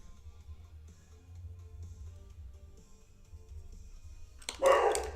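A dog barks suddenly and loudly in a short burst near the end, breaking into a quiet indoor room where faint rustling and a low hum had been the only sounds.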